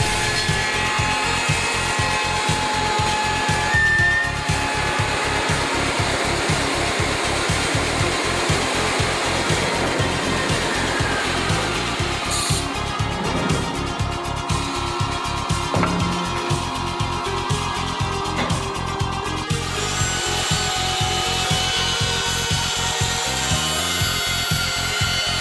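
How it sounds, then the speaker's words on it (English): A K2 woodworking machine automatically cutting offset and angled tenons in timber, a continuous loud grinding and sawing roar with rapid rhythmic chatter that shifts in pitch and texture as the cut progresses, with no voices. "Offset and angled tenons are cut automatically."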